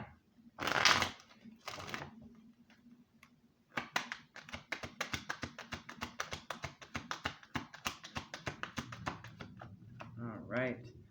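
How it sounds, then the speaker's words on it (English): Rapid riffle-shuffling of a tarot card deck, a long run of quick crisp taps after a brief opening burst, with a voice speaking faintly near the end. "Let's get a good shuffle."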